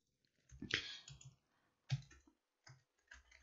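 A few soft keystrokes on a computer keyboard entering a year into a spreadsheet, with short clusters of clicks and brief pauses, faint and close.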